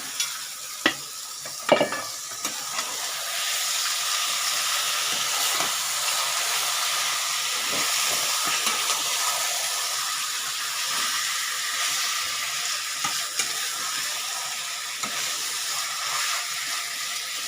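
Onions and chicken frying in a pan for pepper chicken fry, a steady close sizzle and crackle running the whole time, with a few sharp clicks of stirring near the start.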